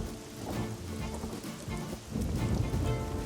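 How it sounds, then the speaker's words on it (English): A cartoon thunderstorm with steady rain, a broad continuous wash of downpour with low rumbling that swells louder near the end. "Soon after that, the sky darkened and a storm began."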